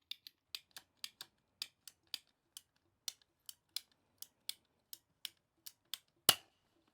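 Scissors or pruning cutters snip through drip irrigation tubing in a garden, a run of sharp, close clicks spaced at a steady pace, ending in one louder snap.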